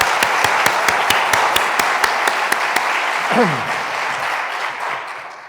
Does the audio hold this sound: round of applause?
yes